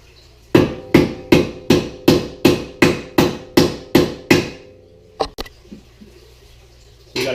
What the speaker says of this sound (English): Give it a couple whacks with a big hammer.